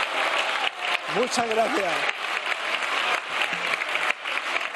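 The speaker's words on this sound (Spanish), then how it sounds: "esta ovación de todos los grupos parlamentarios a este ministro" Members of every parliamentary group give a minister a sustained ovation in the chamber, steady applause from a large crowd going on throughout while a voice speaks briefly over it.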